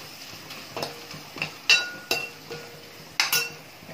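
Fish eggs fry with masala stirred in a pan over medium flame, with a series of sharp metallic clinks and scrapes of a spoon against the pan at an irregular pace, about a dozen strokes over a quiet background.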